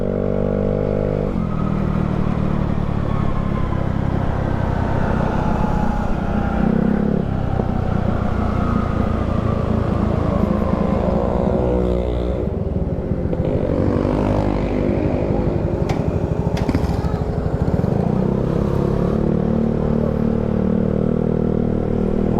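A Yamaha Mio Sporty scooter with a freshly cleaned CVT drones loudly and steadily while being ridden, its engine pitch falling and rising as it slows and picks up speed, with an odd sound when slowing.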